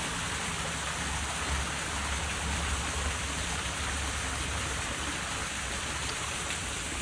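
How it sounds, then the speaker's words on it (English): A waterfall roars steadily as a dense, continuous wash of rushing water, even and unbroken, with no voices. "That waterfall sounds amazing."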